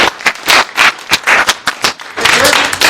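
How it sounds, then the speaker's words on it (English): An audience at a junior ROTC event claps for a retired SR-71 pilot, irregular sharp claps building into a brief burst of applause near the end. "Everybody give him a round of applause, please."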